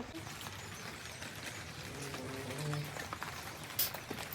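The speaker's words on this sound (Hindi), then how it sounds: "बरसात बहुत ज़ोरों से हो रही है" Heavy rain pours steadily at a village home, a dense continuous hiss with scattered drops and patters, moderately loud throughout, with faint background sounds and no speech.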